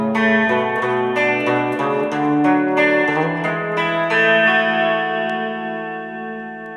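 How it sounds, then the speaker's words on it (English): The fourth guitar part of a song rings out on electric guitar, with steadily picked notes, chorus and echo shimmer, and a long decay, played alone and close. "The 4th and last guitar part for this main guitar chord sequence sounds like this."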